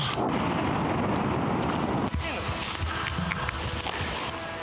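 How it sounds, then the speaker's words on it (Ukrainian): A munition explodes during an air raid near occupied Horlivka in Donetsk region, a heavy rumbling blast, loud and then decaying into a distant roll with ambient noise. "А через декілька секунд вибухає ще один боєприпас."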